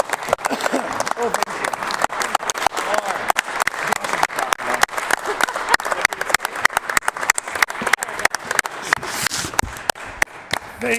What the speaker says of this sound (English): It's nice to get a rounding applause from the PC caucus and the PC team